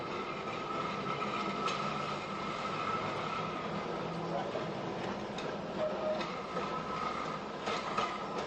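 A vintage domed-roof British city tram runs along its rails with a steady mechanical rumble and rattle, occasional faint clicks and a soft whine sounding through the continuous noise.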